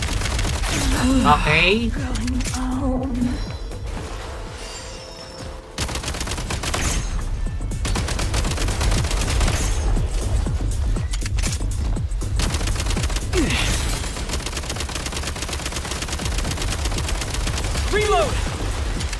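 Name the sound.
gunfire in a video game (Genshin Impact)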